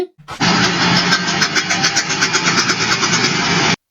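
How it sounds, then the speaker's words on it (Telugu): A car with a faulty CV joint at the wheels, engine running steadily with a rapid rhythmic knocking pulse that repeats evenly throughout, close and fairly loud. "వీల్స్ దగ్గర ఉండే సివి జాయింట్ లో ఇష్యూ ఉంటే సౌండ్ ఇలా వస్తుంది"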